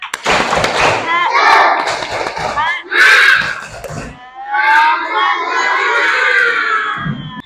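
A classroom of children performing a rhythmic group clap chant together, loud bursts of slapping hands mixed with shouted chanting voices in close quarters, with short pauses between phrases.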